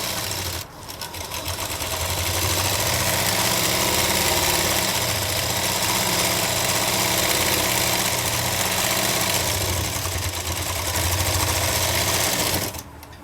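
A sewing machine runs steadily, stitching a fabric seam half an inch from the edge on a loose summer palazzo. The hum is loud and close and holds continuously for about twelve seconds before stopping, with no talk over it.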